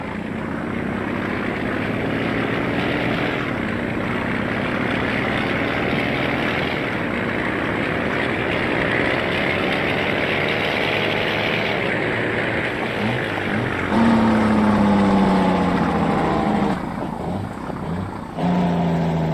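TLX 9000 cabover semi truck engine in Farming Simulator 19, a loud, steady diesel drone with layered harmonics that rise slowly, then a brief higher surge near the end, with no voices.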